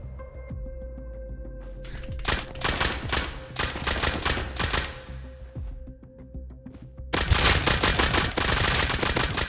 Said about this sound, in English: I think I go with nail gun